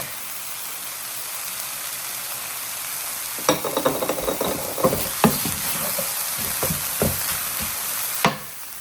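Garlic hits a pan of softened onions, a soft background sizzle that bursts into sharp crackling when it lands, then keeps popping with spoon stirs and scrapes.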